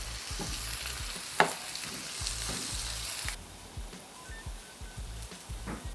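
Meatballs frying in a pan as they are turned onto their sides, a close steady sizzle broken by soft scraping and knocks from the utensil.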